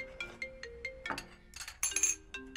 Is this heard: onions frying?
no